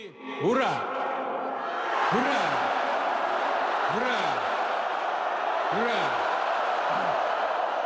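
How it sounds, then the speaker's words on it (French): A large crowd at a Russian rally shouts in unison, bellowing a chant in about five rising, swooping calls spaced roughly two seconds apart over a steady roar of voices. "Et en leur honneur, 3 acclamations."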